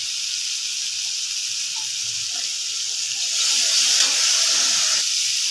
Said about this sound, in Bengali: এখন দিয়ে দেবো চিড়ে রাখা 4টা কাঁচা লঙ্কা,